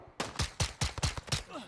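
Seven evenly spaced gunshots ring out in quick succession in the Modern Warfare video game, each one sharp, loud and close.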